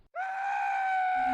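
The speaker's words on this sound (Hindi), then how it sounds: "नील डर के मारे चिल्लाने लगा।" A man's scream of terror in an animated Hindi horror story, one loud sustained shriek that starts abruptly after a brief silence and holds at a steady pitch to the end.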